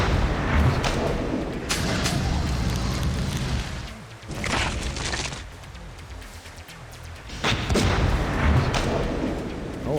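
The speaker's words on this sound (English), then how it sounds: "I can shoot you with my scepter" Scepter blasts in an Unreal Engine video game, heavy booming shots firing in dense rapid bursts with a short lull in the middle before the barrage resumes, loud and close.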